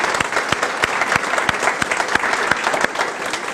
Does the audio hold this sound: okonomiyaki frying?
no